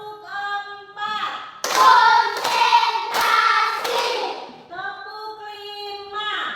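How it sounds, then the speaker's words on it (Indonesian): Group of schoolchildren clapping in a patterned rhythm in a classroom, a burst of loud claps following a sung or chanted count, with voices chanting before and after. "Tepuk 4."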